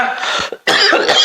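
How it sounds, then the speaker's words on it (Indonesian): Two loud, harsh coughs close to the microphone, separated by a short breath pause. "Tunggu, aku lagi batuk."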